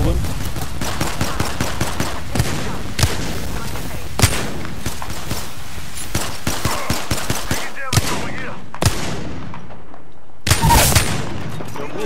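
A PKP machine gun fires in a shooter game, sustained rattling bursts broken by short pauses, with a few heavier cracks and distant shots, loud and close throughout.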